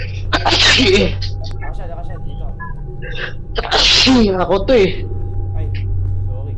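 A sneeze bursts out amid casual gameplay chatter in a Roblox backrooms session, loud and close, followed by more people talking over a steady low hum.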